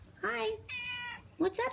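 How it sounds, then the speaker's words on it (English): A pet cat named Eloise meows several times in clear, close, drawn-out calls, while a woman greets her softly between the meows. "So that's my cat."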